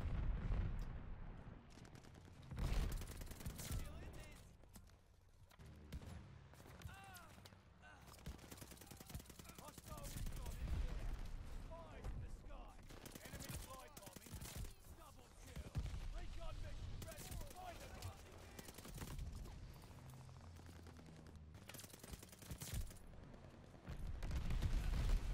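Rapid automatic gunfire and heavy shots ring out in Call of Duty Vanguard multiplayer, coming in loud bursts and long volleys throughout, with a player talking over the action.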